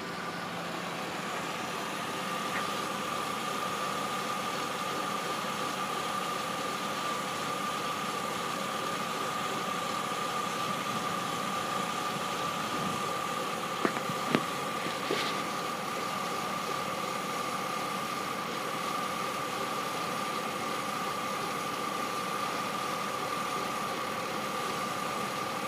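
A 2003 Chevy Malibu with a 3.1 engine idles steadily up close, a smooth continuous hum with a faint whine and one or two brief clicks, and no talking.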